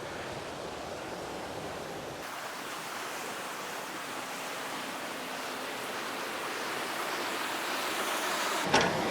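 Water rushes from the mouth of Mammoth Spring in Arkansas as a steady, even roar of flowing water, close and continuous, with no one speaking.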